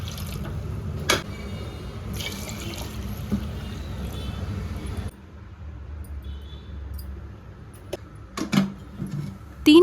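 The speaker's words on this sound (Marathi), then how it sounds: "त्यात पाणी आणि थोडं मीठ घाला." Water runs and trickles into a pressure cooker holding potatoes, a steady close splashing flow that drops quieter halfway through, broken by a few clinks and knocks, with no talking.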